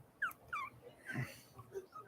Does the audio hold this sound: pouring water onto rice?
no